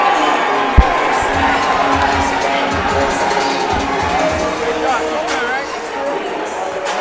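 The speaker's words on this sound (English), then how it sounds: "Listen to this crowd right now. Yeah. They are eating this up." Spectators at a Cage Titans cage fighting event cheer and roar in a loud, continuous wall of crowd noise, with commentators talking over the din.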